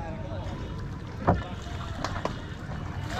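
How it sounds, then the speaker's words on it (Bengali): A small boat glides over the water near Dhamrai at dusk, with soft wind noise, gentle lapping and one sharp knock against the hull partway through. "আমরা নৌকায় চলে আসছি"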